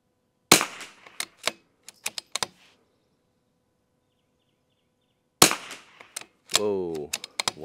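Vudoo Three-60 rifle at a shooting range firing a magazine of Eley ammunition: sharp, close shots, six in an uneven series, then a pause of several seconds before a few more, with a brief voice near the end.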